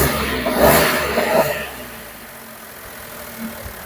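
A Maruti Suzuki Wagon R running on CNG starts and settles into idle. A brief louder burst of engine noise fades quickly into a low, steady, quiet idle hum.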